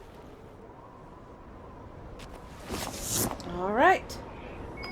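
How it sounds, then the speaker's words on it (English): In the Dragon Age Inquisition video game, a quick series of rising electronic beeps sounds near the end over a quiet background, after a brief spoken word. "let's follow quick beeping. A ringing."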